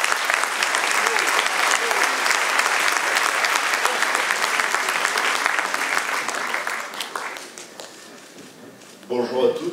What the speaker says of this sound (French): Je vous demande d'applaudir M. Jean-Luc Chauvin,